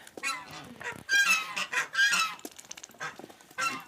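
Several farm geese honk close by in repeated, overlapping calls, loud and nasal, with short pauses between bursts.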